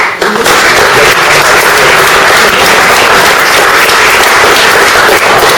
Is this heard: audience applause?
yes